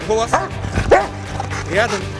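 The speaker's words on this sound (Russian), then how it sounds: "головним героєм нашої програми, перш за все, є пес Урмас" A police search dog, a peacekeeping K-9 partner, barks and yips in short bursts with whimpering tones, close and fairly loud, several calls within a couple of seconds.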